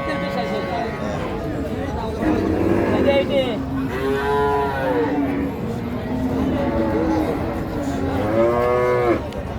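Dairy cows at a busy cattle market moo repeatedly, with long, loud, close calls over a steady hubbub of crowd chatter.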